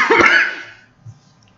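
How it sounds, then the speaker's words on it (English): A single harsh, close cough followed by a brief quieter throat sound, then near silence. "As usual, I apologize for the coughing."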